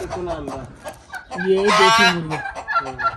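Country chickens on a farm cluck and squawk close by, with a rising, crow-like call standing out in the middle of the short burst of fowl noise.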